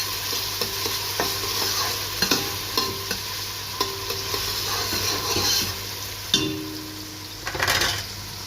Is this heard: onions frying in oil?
yes